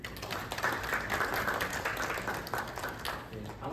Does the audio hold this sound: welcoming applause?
yes